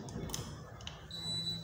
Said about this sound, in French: quand je vais actionner dessus, vous allez entendre un bip sonore retentir